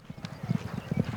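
Hooves clip-clop in quick uneven beats as horses move on a frosty May morning in western Colorado during a horse drive, close and distinct.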